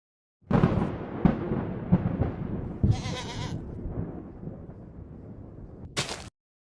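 A cartoon goat bleats in a series of short, wavering cries, loud and close, with brief bursts of noisy sound effects mixed in.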